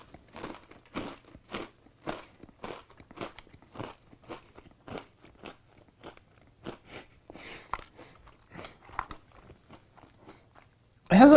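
Repeated crisp crunches from close chewing of Doritos Crunch Nuts, steady bites with short pauses, ending in a sharp louder burst.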